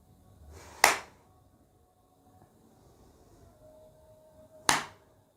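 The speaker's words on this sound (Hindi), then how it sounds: "उंगलियों को एकदम फैला लें और जोर से ताली बजाना है।" Two loud, sharp hand claps with fingers spread wide, the first near the start and the second about four seconds later, ring out in a quiet room during a breathing exercise.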